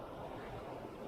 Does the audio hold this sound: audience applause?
no